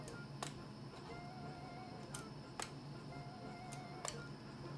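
A Singer knitting machine carriage slides across the needle bed knitting alpaca wool, leaving a soft continuous mechanical whir broken by several sharp clacks as it reaches each end of its pass.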